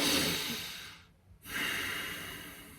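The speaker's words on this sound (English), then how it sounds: "When you take this deep breath" A single deep breath taken close up: a long audible inhale, a brief pause, then a steady breathy exhale, with no talking.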